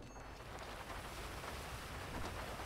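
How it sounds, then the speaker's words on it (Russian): Rain in GTA V, a steady, faint wash of falling rain with a low rumble underneath, continuous and even throughout with no voices. "Дождь идет."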